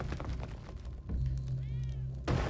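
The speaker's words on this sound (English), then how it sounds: "Alright, so a cat exists somewhere." A cat in the video game Spelunky 2 gives a short, faint meow over low game background sound.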